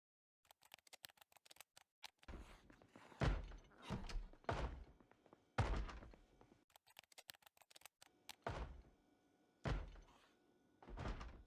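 Planks are barricaded onto a door in Project Zomboid, heard as a string of irregular wooden thunks and knocks. Sharp taps are followed by heavier hammering blows at steady intervals, close and quiet, with no voices.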